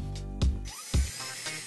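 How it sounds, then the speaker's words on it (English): A power drill bores into a basement wall for a wall anchor and drives a screw, its motor whining steadily with two louder bursts of bite as the bit engages. "drilling out a place for a wall anchor and then driving in a screw for the brace to hang on"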